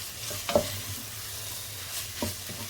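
Spaghetti bolognese sauce being stirred in a pan, a soft continuous sizzle with a few scraping spoon strokes, quiet and close.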